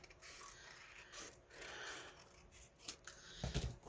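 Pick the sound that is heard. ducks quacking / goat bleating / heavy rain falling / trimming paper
trimming paper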